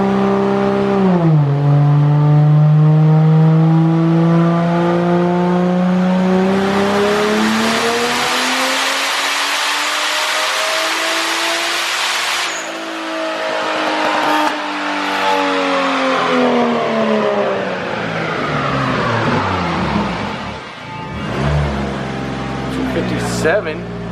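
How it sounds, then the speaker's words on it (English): A Lexus GS300 sedan with a turbocharged 2JZ-GTE engine and boost control revs hard through a sustained pull, the loud engine note climbing through the gears with brief dips at shifts and a whooshing turbo edge. "we're gonna go ahead and make a pull real quick and see what it's like with a little boost control"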